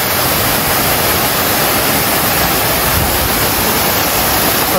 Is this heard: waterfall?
yes